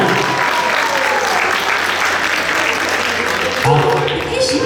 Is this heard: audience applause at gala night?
yes